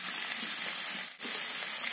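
Pigeon meat sizzles steadily while cooking in a pan for a pigeon curry, a continuous close frying hiss with a brief dip near the middle and no talk.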